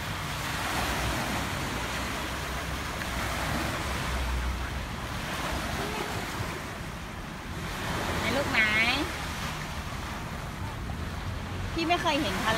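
Sea waves breaking on the beach at Jomtien, a steady wash of surf with wind noise on the microphone, while children and adults talk intermittently.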